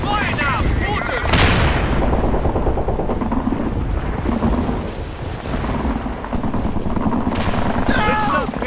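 Soldiers in the video game Men of War fire rifles and machine guns in loud, overlapping bursts, dense and continuous, with shouted voices mixed under the gunfire.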